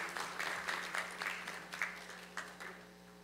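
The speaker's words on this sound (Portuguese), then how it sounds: "eu peço uma salva de palmas para essa mesa que está sendo composta aqui" Audience at a solemn ceremony marking Israel's 70 years claps for the officials seated at the head table, a faint, thinning patter of individual hand claps heard from a distance, tapering off over a few seconds.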